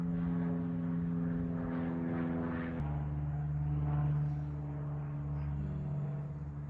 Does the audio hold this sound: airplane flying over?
yes